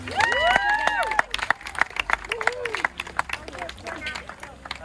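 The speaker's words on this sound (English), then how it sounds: "So give yourselves a round of applause." Crowd applauding and cheering at an outdoor swimming pool grand opening ceremony in Spring, Texas, with scattered claps and whoops mixed with excited voices and crowd chatter throughout.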